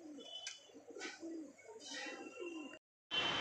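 Pigeons in a loft coo softly in short, low bursts over a faint background. The sound breaks off briefly, then a louder burst of noise follows, with no talk.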